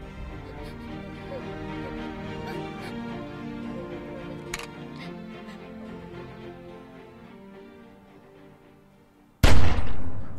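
A single loud, sharp gunshot near the end of a tense scene in Telltale's The Walking Dead video game, ringing out abruptly after a stretch of low, steady ambient music.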